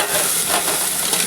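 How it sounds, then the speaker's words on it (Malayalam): Boiling water hits sago fried in ghee for a Kerala jackfruit payasam, giving a loud, continuous burst of hissing sizzle close by. "തിളച്ച വെള്ളം തന്നെ ഒഴിച്ചു കൊടുക്കുന്നത് കേട്ടോ"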